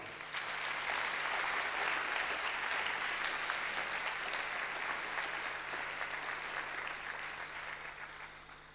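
An audience at a national men's convention breaks into sustained, loud applause, a dense wash of clapping that holds steady for several seconds before tapering slightly at the end, with no speech over it.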